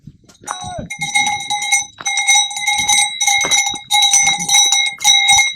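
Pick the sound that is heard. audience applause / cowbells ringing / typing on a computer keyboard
cowbells ringing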